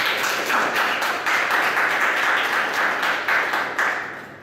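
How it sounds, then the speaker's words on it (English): A seminar audience claps together in a continuous round of applause, dense and fairly close, fading toward the end. "Give me a round of applause."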